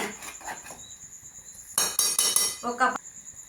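A spoon stirs chicken and spiny gourd curry in a pan: a few quick metallic clinks and scrapes up close, with a faint hiss between them.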